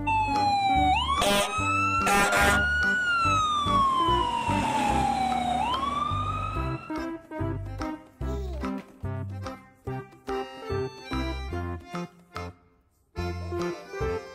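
A toy fire truck siren wails up and down loudly, then gives way to a chunky electronic tune with rhythmic beeping notes.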